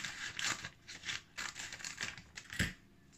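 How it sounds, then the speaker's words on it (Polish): Scissors snip and crinkle through a plastic pancake mix packet, a run of close, papery rustling cuts with a sharper snip near the end. "Otworzę może pierw to opakowanie. Wezmę sobie"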